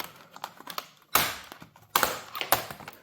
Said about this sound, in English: I'm going to try and take the cable for the battery off, make it loose simply by popping the keyboard off.